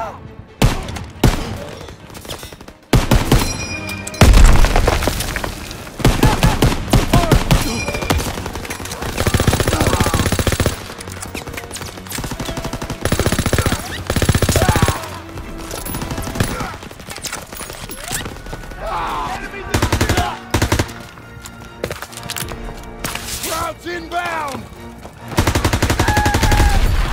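Machine gun fire in the Call of Duty WWII D-Day beach battle, with repeated loud bursts and heavy gunfire over explosions and battle noise across the whole stretch, with shouted voices now and then.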